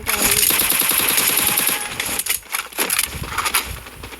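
A video game shooting emote fires a rapid burst of gunfire with sharp repeated shots and metallic clinks, loud and close, then trails off into scattered effect sounds.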